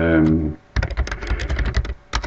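Quick bursts of typing on a computer keyboard, a rapid close run of key clicks with a short pause before a final few taps, following a voice speaking at the start.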